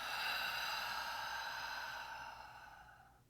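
A long, steady exhale through the mouth during a guided breathing exercise, close and breathy, fading gradually over about three seconds with no talking over it.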